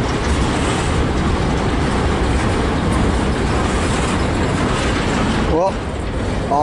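A long freight train passes close by in Fostoria, Ohio, its cars producing a steady, loud rumble and mechanical clatter, with a brief wheel squeal near the end.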